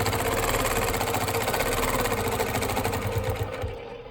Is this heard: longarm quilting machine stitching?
yes